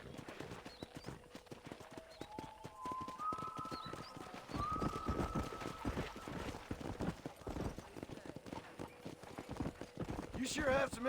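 Hooves gallop in the Red Dead Redemption video game, a rapid continuous clip-clop. A whinny rises early on and a sharp neigh comes at the end, with game voices talking over the hoofbeats.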